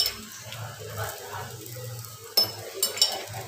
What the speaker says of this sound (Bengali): দেখি কী সুন্দর ভাজা হচ্ছে